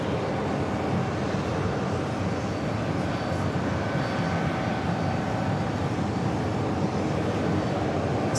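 A Lufthansa Boeing 747 jet begins taxiing at New York JFK airport, a constant, full-bodied engine roar and hiss that remains steady and unbroken with no voices.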